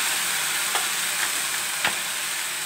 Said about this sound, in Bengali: তেজপাতা ফোড়ন দিচ্ছি, লঙ্কা ফোড়ন দিচ্ছি, জিরা ফোড়ন দিচ্ছি, কালো জিরা ফোড়ন দিচ্ছি, আদাটা দিয়ে দিচ্ছি